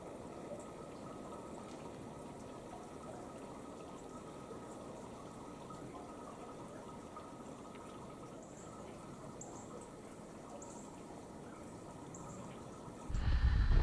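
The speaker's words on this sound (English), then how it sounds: "I can still hear water trickling" Water trickles beneath the ice of a frozen waterfall at Williamsport Falls in Indiana in winter, a faint, steady wash that continues unbroken and rises briefly at the very end.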